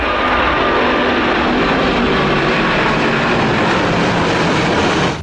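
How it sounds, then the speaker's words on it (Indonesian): Propeller airplanes drone as a loud, steady engine roar that holds evenly for several seconds before cutting off; no talking. "ada dua kapal terbang. Wih, dengan baling-baling di depan"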